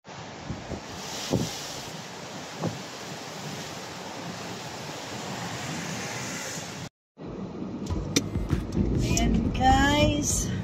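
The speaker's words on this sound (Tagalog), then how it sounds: "biglang pabugso-bugso yung hangin" Gusty wind during a storm buffets a street lined with parked cars and swaying small branches, roaring loud and close into the microphone with rising and falling surges, broken by a brief cut, then more rumbling gusts.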